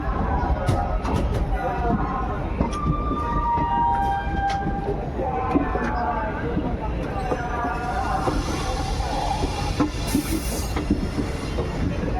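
Runicha Express train setting off from Phulera Junction, a steady rumble of wheels and carriages with occasional squeals and clanks throughout, heard from on board with a voice in the background.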